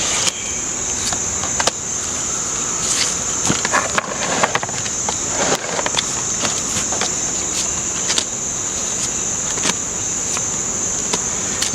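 Honey bees buzz around a row of nine hives outdoors, a steady high hum with faint clicks and knocks scattered through it.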